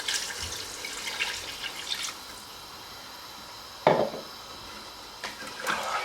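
Water poured into a pot of mint mutton curry (pudina gosht), with short splashy pours and drips, a louder splash near the middle and quieter trickles after.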